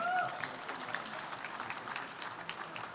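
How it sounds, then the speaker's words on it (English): Sustained audience applause fills a hall for three finalists at a college pitch competition finale, a dense, steady wash of many hands clapping with no pauses. "huge round of applause for our 3 finalists once again"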